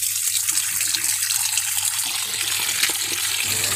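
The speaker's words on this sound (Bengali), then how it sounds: "এই মাছটা আমি নর্মাল জলেই ভালো করে ধুয়ে নেব।" Running tap water pours steadily in a kitchen sink while katla fish pieces are rinsed under it, a continuous close splashing gush with small shifts in the flow.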